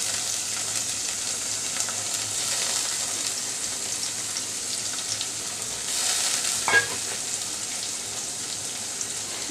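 Soaked red lentils tipped into a hot pan and stirred, with a steady broadband sizzle throughout and a brief scrape and splash of ingredients near the middle.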